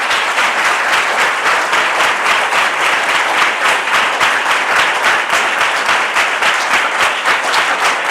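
Loud, sustained applause from a crowd at a youth prayer meeting, dense clapping filling the whole stretch without letup.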